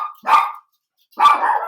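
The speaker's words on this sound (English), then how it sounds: "So, as you can hear, my dogs are favoring Harding's policy on veterans, right?" Pet dogs barking indoors nearby, two loud sharp barks about a second apart with silence between, no talking.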